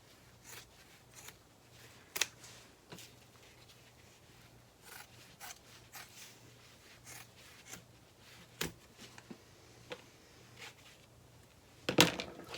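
Scissors snipping through sewn fabric edges while trimming a seam on a satchel's zipper pocket panel, scattered short faint cuts at irregular intervals with a sharper closing snip near the end.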